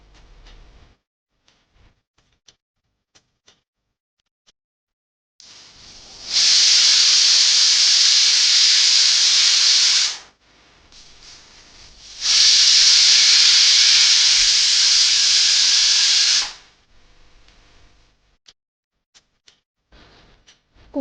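Steam hissing out of a pressure cooker holding mutton rezala after the gas is switched off, in two long, loud, steady bursts of several seconds each with short quiet gaps between them.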